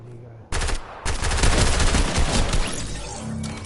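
Rapid bursts of assault rifle fire in the Fortnite video game, loud and close, with sustained automatic shots after a brief pause and faint talk underneath.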